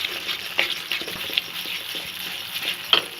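Melted sugar stirred into mawa in a pan for anjeer barfi: a soft frying hiss with a few sharp scraping clicks of the spoon, close and fairly loud, with no talking.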